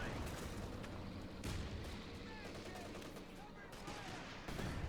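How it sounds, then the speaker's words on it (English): Bazooka blasts and gunfire ring out in a Company of Heroes 2 battle, with dense rolling bursts of shots and booming impacts that come in waves over a continuous din of combat. "Still a lot of bazooka fire there."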